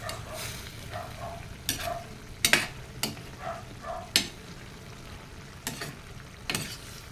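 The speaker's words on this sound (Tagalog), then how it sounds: "Haluin." A spoon stirs a vegetable dish in a pot that has come to a boil, with intermittent sharp scrapes and knocks against the pot over a soft bubbling, sizzling background.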